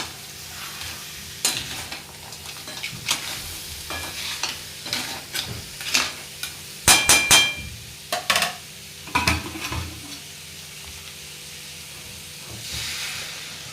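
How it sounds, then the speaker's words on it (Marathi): Crabs frying in masala in a home kitchen, stirred in the pan with repeated scraping, clattering strokes over a steady sizzle and hiss. No voices are heard. "मसाल्याबरोबर हे खेकडे आपल्याला फ्राय करून घ्यायचे आहेत"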